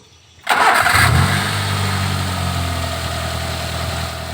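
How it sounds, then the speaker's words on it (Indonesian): A Daihatsu Gran Max 1.5 pickup, shaky with a droning fault, cranks briefly after a quiet moment and fires up, settling into a steady, loud, close idle hum. "Oke, posisi mati, kita starter."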